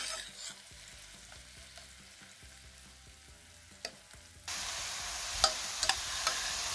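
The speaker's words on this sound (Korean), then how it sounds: "지글지글 끓고 있지요." Crushed frozen garlic sizzles over low heat in a frying pan, quiet at first with occasional clicks and stirring, then a loud steady hiss with a few sharp pops.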